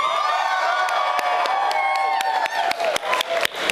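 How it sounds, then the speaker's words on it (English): An audience at a live show applauds and cheers for a performer, dense clapping with sharp individual claps and whoops, steady then slightly thinning. "round of applause for Haiku Jim."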